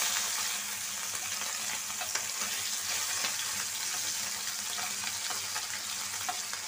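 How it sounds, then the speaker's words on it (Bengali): Steady, dense sizzle of tengra fish frying in a pan, a continuous hiss with faint scattered crackles and no talking. "সেজন্য একটু ভাইজা নিলাম মাছটা"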